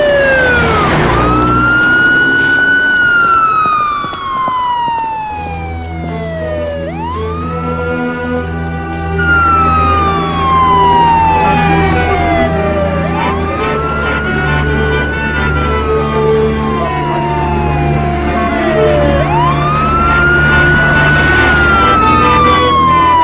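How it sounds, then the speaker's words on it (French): A police car siren wails loud and close, its pitch sweeping up and down in repeated long rising and falling cycles over a low engine rumble. "C'est une sirène que j'entends?"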